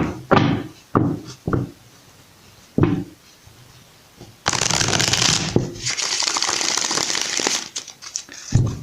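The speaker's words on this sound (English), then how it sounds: "Just shuffle a few more times and we'll get started right away." Tarot cards riffled and shuffled in short bursts, with taps and knocks between, then a longer continuous shuffling rustle, close up.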